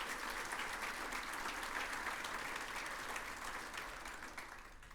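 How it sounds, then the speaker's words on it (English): Audience at a regional State of the Region event gives a round of applause for the Chamber, a fairly faint, continuous patter of many hands that slowly tapers off. "Let's give the Chamber a big round of applause."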